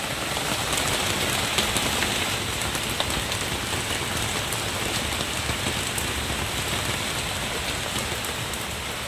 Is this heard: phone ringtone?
no